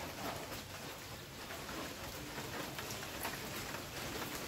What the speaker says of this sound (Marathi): कसं पाऊस पडते